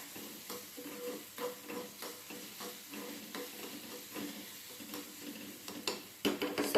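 Vegetables such as capsicum and paneer fry in a pan for bread pizza, a steady crackling sizzle with repeated scraping stir strokes and a few louder knocks near the end, no voices.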